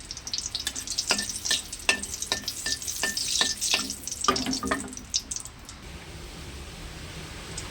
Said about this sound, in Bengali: তেলের মধ্যে দিয়ে দিচ্ছি দুটো শুকনো গোটা লঙ্কা